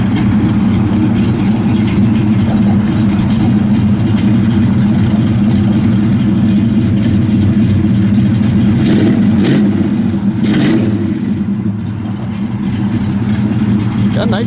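A 1967 Chevrolet Chevelle SS 396 with a four-speed and an aftermarket cam idles loud and close, a deep, steady, lopey rumble with slight rhythmic lope throughout, a few faint background knocks over the engine.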